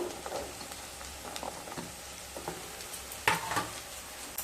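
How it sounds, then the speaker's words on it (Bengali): Carrot and potato frying with onion and green chilli in a pan, a steady soft sizzle with occasional stirring scrapes and clinks, close and alone. "গাজর আর আলুকে খুব ভালোভাবে ভেজে নেব"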